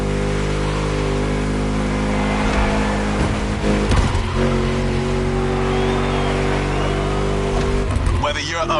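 Engine of a car in the racing game The Crew Motorfest holds a steady high drone at speed, with shifts and brief revving swells, loud and continuous, as a voice talks over it.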